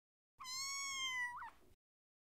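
A kitten sitting in a shoe gives one clear, drawn-out meow with a brief upturn at the end, quiet and close, with nothing else around it.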